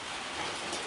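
Steady rain falls outside, a dense, even hiss of drops without pause, moderately loud and continuous.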